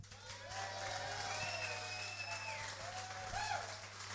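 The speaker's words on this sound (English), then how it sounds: "Big round of applause, please, for Ryan and Paddy." A live audience applauding as the hosts of a podcast are welcomed onstage, a continuous, fairly distant burst of clapping with light cheering over a steady low hum.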